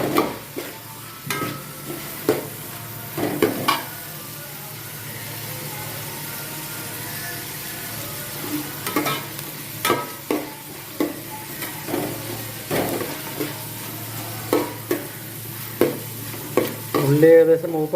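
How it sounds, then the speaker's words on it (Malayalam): Chopped onions frying in a pan for vegetable biryani, a steady sizzle broken by repeated sharp scrapes and clatters of a spoon stirring against the pan, close and fairly loud with no talking. "ഉള്ളി ഏകദേശം മൂപ്പായി തുടങ്ങിയിട്ടുണ്ട്."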